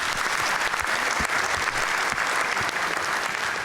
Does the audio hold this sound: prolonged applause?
yes